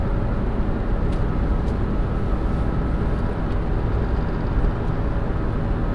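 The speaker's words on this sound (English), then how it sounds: "There's a lot of grit on the road over here. I can hear it up in the wheel wells" Steady low road rumble inside a moving 1973 VW bus, with grit from a gritty road pattering up into the wheel wells, a continuous, even drone with no talking.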